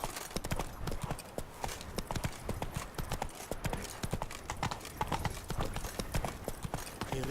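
A horse gallops in The Witcher 3 video game, its hooves drumming in a fast, steady clip-clop rhythm that is loud and close throughout.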